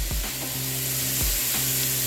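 Pork sizzles steadily in a hot frying pan, a close, continuous hiss with a couple of dull knocks of the meat or utensil against the pan.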